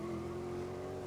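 A race car slides with a sustained, steady tire squeal over a loud engine drone in the racing video game GRID, close and continuous with no talk.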